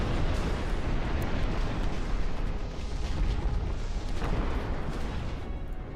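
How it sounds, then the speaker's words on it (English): Mortars thud in a massive real-time strategy battle in Ashes of the Singularity 2, a low, rumbling barrage of distant blasts rolling continuously without a break. "Oh, they have mortars."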